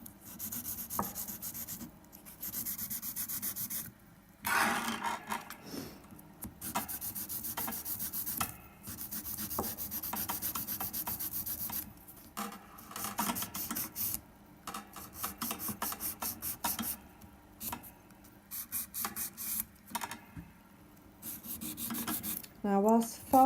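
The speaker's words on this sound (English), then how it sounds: "it's a lot easier to file with gel than it is with acrylic because it just files like butter" A nail file rasps across gel nails in short scratchy strokes, bursts of quick back-and-forth filing separated by brief pauses, close and fairly quiet.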